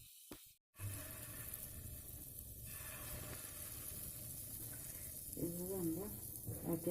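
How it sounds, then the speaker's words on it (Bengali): Palm fruit fritters (taler bora) frying in oil, a steady close sizzle throughout, with a brief gap near the start and faint voice-like sounds toward the end. "না অপর পিঠটা আমরা এইভাবেই ভেজে তুলে নেব"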